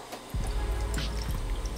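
Water runs steadily from a tap into a container, a continuous splashing rush starting a moment in and holding at an even level.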